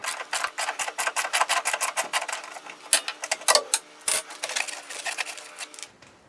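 A ratchet clicks rapidly in bursts, loud and close, while a rear strut bolt is removed from a 1999 Ford Contour. It stops briefly at the end.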